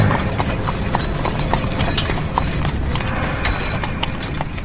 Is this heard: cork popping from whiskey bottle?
no